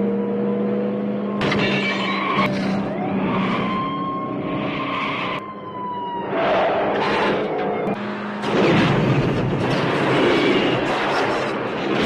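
A car chase with a police car in the film First Blood: engines roar, tires skid and vehicles rush past in loud bursts, separated by brief lulls.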